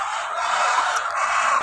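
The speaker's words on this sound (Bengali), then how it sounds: "লিগের মুরগিগুলা কত সুন্দরভাবে খাবার খেতেছেন, পুরোটাই সুস্থ" Caged layer hens on a poultry farm feed in the morning, giving a steady, dense chorus of clucking and fowl calls that fills the whole moment without pause.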